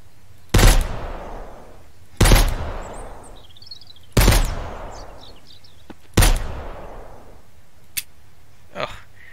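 Machine gun fire in the Mist Survival game: four loud, heavy single reports about two seconds apart, each with a long echoing tail, followed by two fainter, sharper pops near the end.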